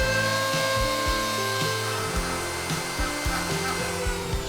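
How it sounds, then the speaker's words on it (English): A wooden speargun part is worked smooth with a tool whose motor drones steadily and close by, its pitch dipping briefly several times as the tool meets the wood. "Then smooth out all irregularities."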